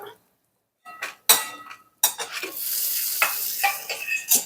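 Sun-dried karuvadam drop into hot oil in a pan and burst into loud, crackling sizzling after a moment of silence, with spoon stirring and metal clinks over the steady fry.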